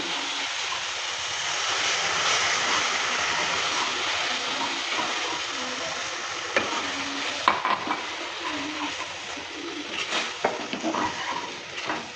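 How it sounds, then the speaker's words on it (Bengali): Gram flour (besan) fries in a pan for besan barfi while milk is poured in bit by bit and the mixture is stirred, giving a steady loud sizzle with scraping spoon strokes growing sharper near the end. "বেসনটাকেও আমি ভালো করে ভেজে নিলাম এবার দিয়ে দিচ্ছি দুধ অল্প অল্প"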